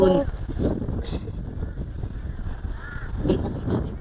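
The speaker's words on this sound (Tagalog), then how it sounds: "Naku, may uwak." A crow caws a few times at a distance over steady wind noise and an outdoor rumble, heard near a flying DJI Mini 2 SE drone.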